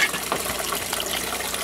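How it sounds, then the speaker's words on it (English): Water gushes steadily through a homemade bottle-built aquaponic filter holding tilapia, a close continuous splashing flow without voices. "Water flows in there, and the water comes out here, cleaned up"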